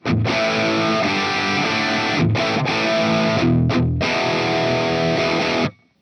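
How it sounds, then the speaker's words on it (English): A heavily distorted electric guitar through a Marshall JCM 800 amp model plays loud chords with brief breaks, a crunchy amp tone ringing out and stopping abruptly at the end. "Let's keep it simple. Let's choose a Marshall JCM 800."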